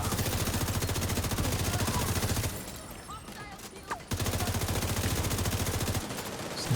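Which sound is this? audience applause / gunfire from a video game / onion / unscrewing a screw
gunfire from a video game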